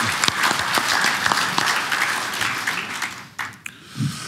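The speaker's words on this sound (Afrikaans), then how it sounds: "kom ons gee vir hulle hande klap" Delegates at a Grain SA congress clap their hands for a regional member, a lively round of crowd applause with sharp individual claps that thins and tapers off near the end.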